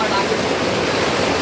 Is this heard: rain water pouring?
yes